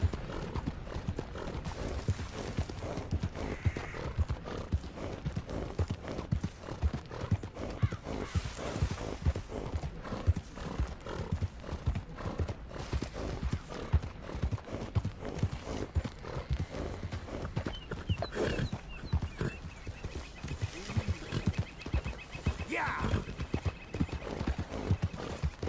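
Steady clip-clop of horse hooves at a walking pace in the video game Red Dead Redemption 2, continuous and close, with a brief whinny partway through.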